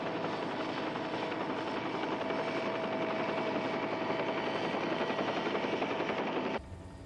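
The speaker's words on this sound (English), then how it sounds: "I'll have to move the copter clear" A helicopter hovers near a volcanic crater, its rotors and engine making a loud, steady, unbroken roar that cuts off abruptly near the end and drops to a quieter hum.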